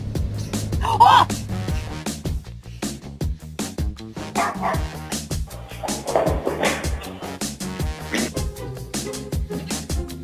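A dog barks repeatedly in sharp, loud bursts with short yips mixed in, near and lively, with a person talking in between.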